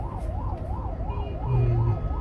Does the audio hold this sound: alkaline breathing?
no